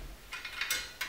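A spoke wrench turns nipples on a bicycle wheel being tensioned, giving a few faint, quick metallic ticks and creaks in an irregular row, close and quiet.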